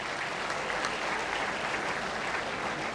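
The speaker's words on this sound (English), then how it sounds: "So, big round of applause for him" An audience at a World Moral Education Day event gives sustained applause, a dense steady clapping of many hands that stays even and loud throughout with no voices standing out.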